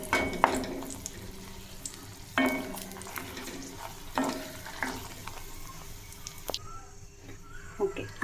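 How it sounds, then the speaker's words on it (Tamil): Dried red chillies fry in oil for garlic chutney, a quiet, close sizzle broken by a few sharp stirring knocks and scrapes of a spoon against the pan. "எண்ணெய் காஞ்சிச்சு, காஞ்ச மிளகாய் போட்டுடலாம். கொஞ்சம் வதங்கட்டும்."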